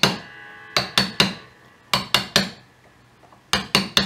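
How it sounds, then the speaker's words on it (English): A hammer drives a chisel into stone to rough out hand-carved lettering, giving close, sharp ringing strikes in quick bursts of three separated by short pauses. "I'm chopping away the bulk of the stone."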